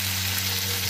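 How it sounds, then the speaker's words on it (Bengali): Prawns fry in hot oil in a pan, giving a loud, continuous close-up sizzle that stays even from start to finish. "চিংড়ি মাছগুলো মোটামুটি ভাজা হয়ে গেছে।"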